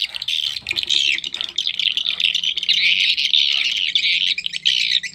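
Recorded swiftlet calls played back through a tweeter speaker, a dense stream of high chirping and twittering that runs steadily and fairly loud throughout.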